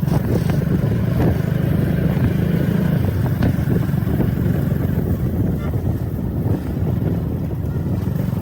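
A motorcycle carrying two riders on a road trip toward Hogenakkal in March 2022, its engine a steady low rumble mixed with heavy wind buffeting throughout.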